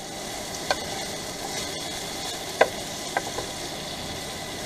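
Mushrooms with garlic powder sizzling in a pan in an RV kitchen, a steady soft frying hiss with a few light clicks of stirring and no talking.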